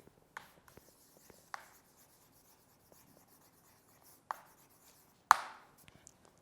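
Someone writes by hand during a chemistry lesson, making a sparse run of faint scratchy strokes with a few sharper marks. The strokes are close-up in a quiet room.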